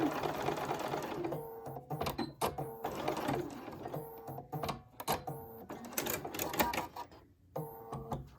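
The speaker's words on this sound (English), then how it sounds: "And I'm going to go ahead and stitch." A sewing machine stitches a fabric wristlet strap in short bursts of rapid mechanical whirring and clatter, broken by brief pauses between runs.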